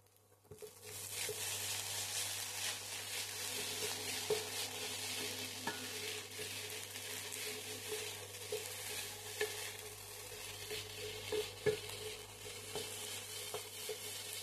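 Maggi noodles frying in a pan with only their own packet masala, a steady continuous sizzle with light stirring scrapes throughout, close and fairly loud, no talking.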